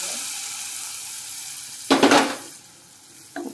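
Hot fried tempering is poured into brinjal dal, setting off a sudden loud sizzling burst midway that fades quickly, with a brief second splash of sizzle near the end over quiet kitchen background.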